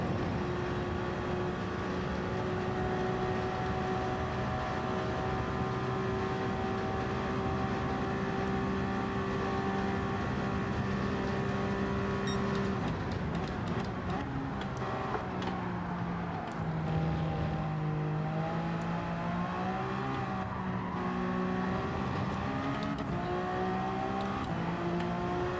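Race car at Spa-Francorchamps in Gran Turismo 7, a loud steady engine drone with a sustained tone, then the pitch drops and wavers under braking midway before climbing again.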